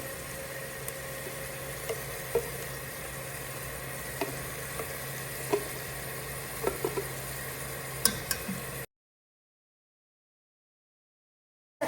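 Ginger garlic paste sizzles steadily in a frying pan, a close, continuous hiss with faint ticks and pops scattered through it, then the sound cuts out abruptly near the end.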